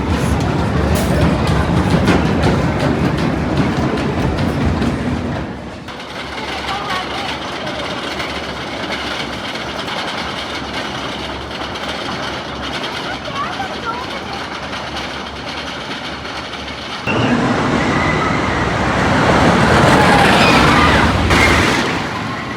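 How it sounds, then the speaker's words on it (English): Riding Apocalypse the Ride, a 2009 GCI wooden roller coaster: loud rattling, rumbling train roar with wind noise that eases briefly then surges again, close and continuous, with voices underneath. "third ride of the day is going to be Apocalypse the Ride here, which is a 2009 GCI wooden coaster"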